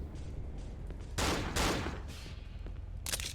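Enemy gunfire in the horror game Cry of Fear, a few loud broadband bursts of shots around the middle of the clip with another burst near the end, over a low background rumble.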